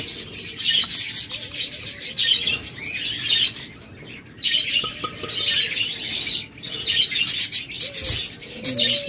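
Budgerigars chirp and warble continuously in a breeding cage setting, a dense flock of overlapping bright twitters close by with no talk, occasional wing flutters among them.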